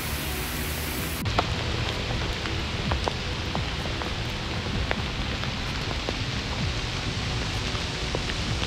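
Steady rain falls beside a pond at a catfish fishing spot, a dense continuous hiss with scattered drops, close and fairly loud with no voices over it.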